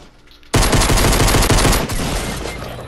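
Rapid automatic gunfire from the Fortnite video game erupts after a brief quiet moment and continues as a dense, loud burst of shots for the rest of the clip.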